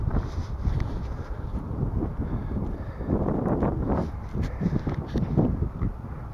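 Steady wind blows across a park on a chilly, gusty day, a continuous low roar of buffeting against the microphone with no speech.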